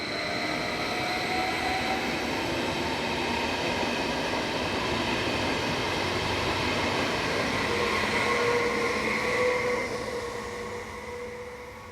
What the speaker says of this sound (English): Built from 2010 onwards by Stadler, these double-deck multiple units have 8 500 kilowatt traction motors.